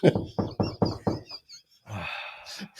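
A sound-effect knock on a door: five loud, evenly spaced raps, followed by a short noisy hiss and a soft thud.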